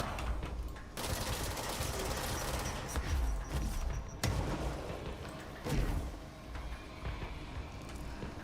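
Charge shots fired in the video game Control, a dense run of overlapping blasts and bursts that stays loud and nearly continuous, with sharper heavy impacts near the start and middle.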